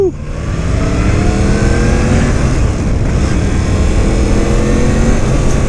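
A 2017 Yamaha FZ-10 motorcycle engine accelerates on the road, a loud close-up roar rising through the revs with rushing wind noise, continuous throughout.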